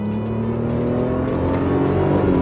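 A 2002 BMW Z3 roadster with a 2.2-litre six-cylinder engine revs steadily and loudly close by, a continuous raspy drone climbing slightly in pitch with no talking.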